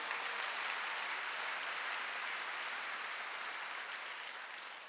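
A congregation at a Wednesday church service claps together, a dense, even burst of applause that fills the room throughout and tapers slightly toward the end.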